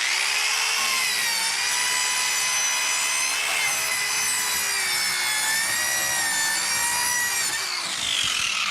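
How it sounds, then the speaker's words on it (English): DualTools CS450 compact saw making a plunge cut through plywood for a sink base, a loud, steady high-pitched whine and rasp of blade on wood, continuous for several seconds before tailing off. "I'm going to do this cut here. I'm going to do a plunge cut."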